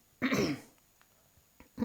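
A single throaty cough up close, followed by quiet pauses and a brief start of another sound at the end.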